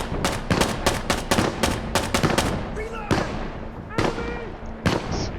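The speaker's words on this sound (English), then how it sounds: "Mortar's coming down!" Mortar shells explode in rapid succession in the tactical shooter Insurgency: Sandstorm, a loud chain of booming blasts close by, mixed with gunfire and shouting players.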